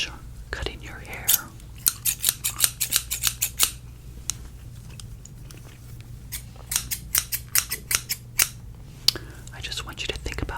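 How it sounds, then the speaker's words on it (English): Scissors cut hair in quick clusters of crisp close snips during a relaxing haircut, with pauses between bursts and soft whispering underneath. "So as I finish cutting your hair,"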